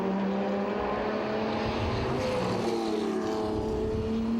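Race cars, including older Porsches in a retro motorsport event, drive on a 2.8 kilometre circuit. Their engines make a continuous loud droning roar, with rising and falling pitch as the cars pass.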